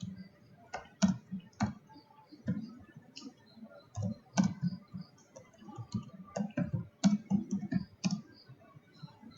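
Fast irregular clicking of keys on a computer keyboard, quiet and close, with bursts and short pauses throughout and no voices.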